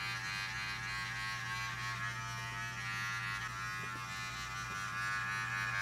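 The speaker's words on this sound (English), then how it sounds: "I'm now going to take my cordless Wahl detailer and begin my first line." A cordless Wahl detailer hair trimmer buzzes steadily while cutting hair during a barber competition haircut, a close, even electric hum with no talking.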